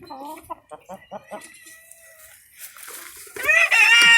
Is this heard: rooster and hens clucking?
yes